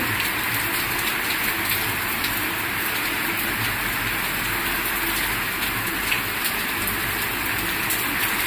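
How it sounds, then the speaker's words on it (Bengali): Heavy rain pours down steadily, a dense unbroken hiss of drops hitting surfaces close by, with no voices. "দেখতে পাচ্ছি মুসলধারা বৃষ্টি"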